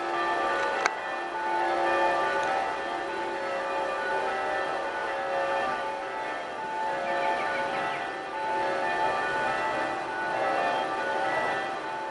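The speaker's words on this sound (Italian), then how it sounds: "Ecco, sono partite anche le campane di Colloredo." Church bells of Colloredo, Italy, ring continuously at a distance in the evening, their overlapping tones forming a steady, resonant wash with a sharp clang near the start.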